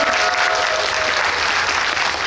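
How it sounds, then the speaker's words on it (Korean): An audience at a film screening and director Q&A breaks into dense, continuous applause, a close and loud wash of many hands clapping without letup. "박수 부탁드립니다"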